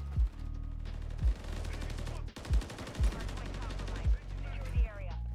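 Call of Duty gunfire pops in short bursts of sharp shots every second or so over a constant droning background, with a voice talking now and then.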